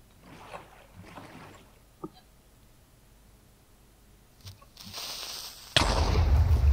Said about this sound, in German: So, dann lasse ich den Creeper mal explodieren.